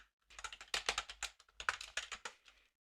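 Fast typing on a computer keyboard during live coding, about two bursts of crisp, close keystrokes with a short pause between, quiet and without speech.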